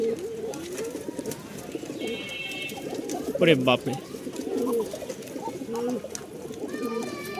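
Male pigeon cooing among a flock of Rajshahi colour-matched Giribaz and fancy pigeons, low throaty coos repeating throughout over busy background bird chatter, with a person exclaiming briefly mid-clip.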